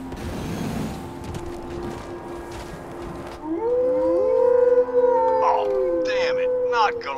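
Goliath, a monstrous dog in the Firefall video game, lets out a long, loud wavering howl that rises and bends in pitch, following a stretch of rumbling noise, with voices talking around it.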